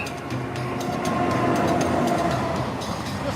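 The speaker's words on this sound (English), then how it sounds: "Here comes the train." A train rumbles steadily and loudly into a station, wheels clicking over rail joints in a regular rhythm with a faint metallic squeal, and no voices.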